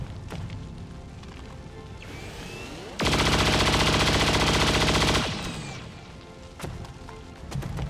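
Chain shot gunfire from the XCOM 2: War of the Chosen video game, a loud, dense burst of rapid automatic fire lasting about two seconds, set amid quieter game ambience and effects with no talking.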